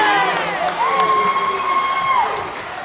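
A crowd at a girls' high school basketball game in Hamilton cheers and yells, a sustained roar of voices with whoops and a long shrill scream rising over it, loud and lively.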